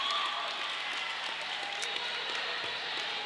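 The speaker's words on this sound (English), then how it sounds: "The crowd's applauding him now as he leaves the track." A crowd applauds at a roller derby match as a player leaves the track, a dense even patter of clapping sustained across the whole stretch at moderate distance.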